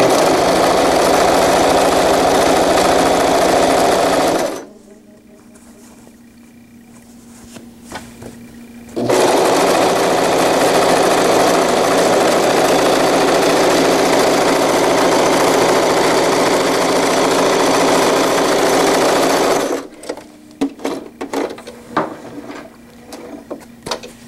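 A sewing machine stitches a zippered wetbag in two long steady runs of loud, close whirring, separated by a quiet pause and followed by small handling clicks and rustles.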